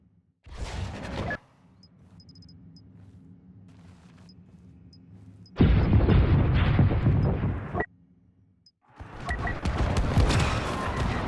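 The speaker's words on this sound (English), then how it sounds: "East turret wired to blow." Turret blown up in Star Wars Battlefront II, heavy booming explosions in separate bursts with a low rumbling hum and faint beeps in between, loud and close, no speech.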